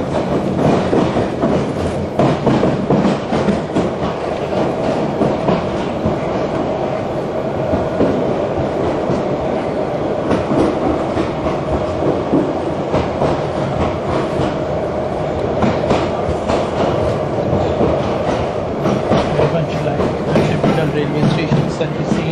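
A London Underground tube train runs steadily, a loud continuous rumble with rhythmic clatter from the wheels and track heard from inside the carriage.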